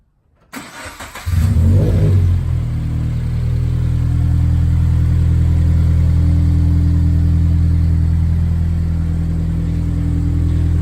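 A turbocharged Scion FR-S engine cranks briefly, then catches and settles into a loud, deep, steady idle rumble that continues close by without talk.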